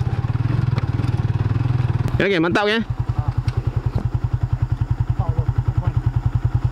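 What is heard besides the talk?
WMoto Extreme 150i motorcycle engine running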